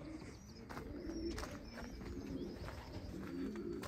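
Racing pigeons coo softly at a loft after returning from an 80-kilometre training flight, low murmuring calls repeating steadily over a faint steady background.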